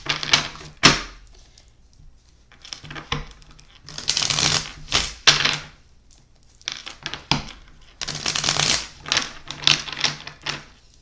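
A Cthulhu-themed tarot deck is shuffled by hand in several bursts of crisp, riffling card noise separated by short pauses, close and fairly loud, with no talking.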